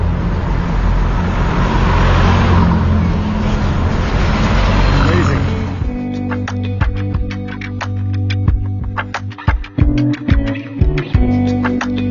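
Old cars rumble past on a busy street in Havana, Cuba, with loud engine and road noise, then the traffic thins out and scattered clatter and knocks follow.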